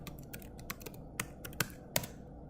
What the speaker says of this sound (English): So go ahead and type that in.